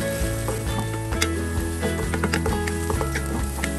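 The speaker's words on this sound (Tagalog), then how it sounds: "pagpatuloy lang natin yung pagigisa sa bawang at sibuyas hanggang sa lumambot na yung sibuyas" Garlic and onion sizzle in a pan while being sautéed for chicken adobo, a close, steady frying crackle with small bursts and stirring clinks.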